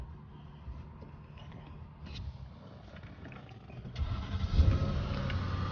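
A 2007 Mercedes-Benz S550 4Matic engine cranks briefly on a newly replaced starter and catches, settling into a steady idle after a few seconds of quiet mechanical noise.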